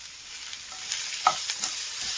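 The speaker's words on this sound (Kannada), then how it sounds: "1 ಟೇಬಲ್ ಸ್ಪೂನಷ್ಟು ಆಯಿಲ್ನ ಸೇರಿಸ್ಕೊಂಡು ನೀಟಾಗಿ ಫ್ರೈ ಮಾಡ್ಕೊತಾ ಹೋಗೋಣ. ಈಗ ಇದಕ್ಕೇನೆ 2 ಟೊಮೆಟೊ ಕಟ್ ಮಾಡ್ಕೊಂಡು ಹಾಕ್ಕೊಂಡಿದ್ದೀನಿ." Chopped tomatoes frying in a tablespoon of oil for a mushroom egg curry, a soft steady sizzle with a few light spoon scrapes and taps against the pan.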